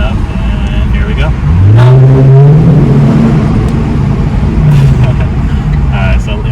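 A Lexus GS 350 fitted with a Borla exhaust pulls away hard from a street light, its engine note climbing through the gears loud and close, with a rising, slightly raspy exhaust tone over road noise.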